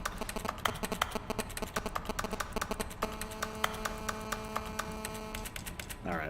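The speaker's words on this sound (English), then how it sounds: "That's totally Morse code, but what is it?" Morse-code-like signalling in The Stanley Parable: Ultra Deluxe, heard as rapid, regular clicking pulses over a steady electrical hum, with a sustained tone joining partway through.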